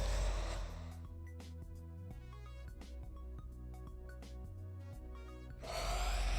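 A Mekanism mining drill machine runs in modded Minecraft with a steady mechanical drone and repeating rhythmic clanks, framed by louder whooshing bursts at the start and end, with no voices.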